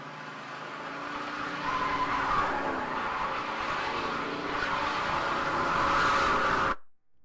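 A car engine drones steadily with tyre and road noise in the Silent Hill 2 ending, loud and continuous for nearly seven seconds before cutting abruptly to silence; no talking.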